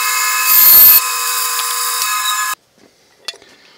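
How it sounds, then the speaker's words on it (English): A bandsaw cuts a brass tube to length for a double edge safety razor handle, a loud steady high-pitched whine of about two seconds that stops abruptly, followed by faint handling clicks. "So then I will go over to the bandsaw, cut this to the length."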